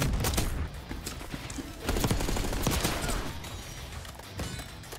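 Rapid bursts of gunfire fill a Call of Duty Black Ops 6 multiplayer match, with dense overlapping shots and booms running loud and continuous throughout.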